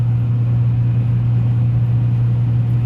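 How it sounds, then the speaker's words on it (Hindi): A steady low engine and road rumble heard from inside a car driving on a Saudi Arabian road while another vehicle overtakes, an even drone with no distinct pass-by swell and no talking. "अब ये देखें ये गाड़ी ने मुझे ओवरटेक किया और मेरे आगे आ गई है।"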